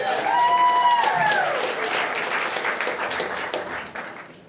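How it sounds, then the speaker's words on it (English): Applause from a concert audience at an evening folk-music show rises as a bowed instrument's last note fades, then continues at a moderate level and slowly thins out. "A round of applause."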